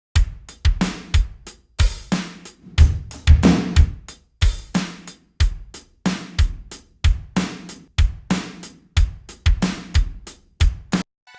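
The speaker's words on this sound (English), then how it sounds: "Let's balance it out with the full drum kit." A full drum kit plays a steady groove in a studio mix built around an acoustic guitar track, with punchy kick and snare hits and bright cymbal wash repeating evenly throughout, loud and close with no voices.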